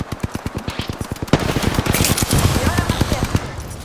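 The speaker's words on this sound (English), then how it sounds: "Getting shot at! I'm taking fire!" Apex Legends gunfire: a steady, rapid train of shots, followed by a denser, louder stretch of overlapping fire and impacts, close and dominant.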